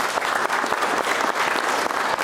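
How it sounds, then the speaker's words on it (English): A room full of people applauding at a county board meeting for the district girls' champions, a dense, steady clapping that fills the whole stretch. "So I think they need a round of applause."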